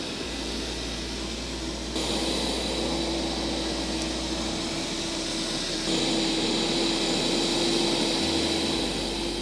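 A lawn dethatcher machine runs slowly across grass, making a continuous loud motorized drone with a low hum that shifts slightly in pitch and level over time, no voices.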